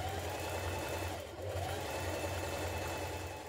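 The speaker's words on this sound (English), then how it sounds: "on the outside, we're just stitching close to the binding here" A sewing machine runs steadily up close, stitching along the binding of a New Look 6301 dress, a continuous mechanical hum with one brief dip midway and no talking.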